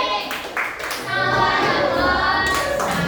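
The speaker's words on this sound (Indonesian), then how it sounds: "Udah selesai, tepuk tangan." Children in a classroom clap their hands in a dense burst that picks up after a moment and carries on steadily, close and moderately loud, with voices mixed in.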